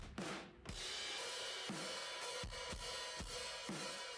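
Soloed drum bus for an emo/alternative rock track, crushed by heavy compression and aggressive Devil-Loc saturation: loud, dense, distorted hits with a pumping rhythm of kicks and a constant smeared wash of cymbal noise, no voices.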